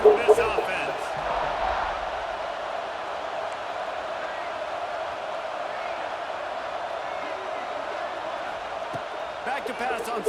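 A steady, distant stadium crowd roar from the EA Sports College Football 26 video game hums throughout, with a commentator talking over it.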